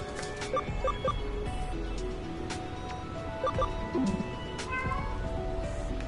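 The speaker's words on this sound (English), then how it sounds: "Kitty." A cat meows repeatedly, several short clear cries in a loose rhythm with a drawn-out wavering meow near the end, fairly close in a quiet room with low background noise.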